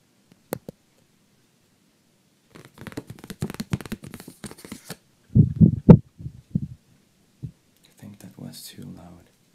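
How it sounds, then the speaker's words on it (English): A white balance card is flapped close to the microphone as an ASMR trigger, giving bursts of papery flutter and soft thumps in uneven rhythm, with a few louder slaps. "It's like he has a white card balance, a white balance card, and he flaps it like this."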